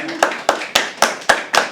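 Six distinct, sharp hand claps in an even rhythm at a live poetry open mic, close and loud, with a faint voice humming underneath.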